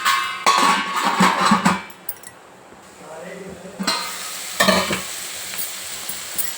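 Moong dal with coriander powder frying in a pan for a ridge gourd dal, with loud bursts of clattering stirring and metal scraping over a sizzle, then a quieter stretch before more stirring clinks.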